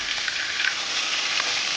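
Catla fish pieces frying in oil in a pan on a gas stove, a steady close hissing sizzle with faint crackles throughout, no talking.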